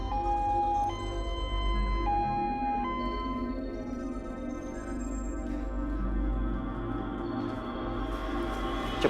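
An ambulance siren wails steadily in a repeating two-tone pattern, loud and close, with a dense rumble of traffic and engine noise beneath it and no voices.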